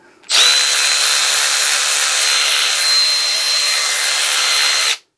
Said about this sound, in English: let's go ahead and test. Here's the long neck ratchet.